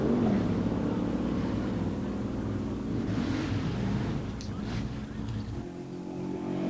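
A 1968 GTX Hemi automatic and a 1969 Chevelle 396 four-speed in a pure stock drag race: a steady, loud roar of V8 engines at full throttle with wind noise, easing slightly near the end.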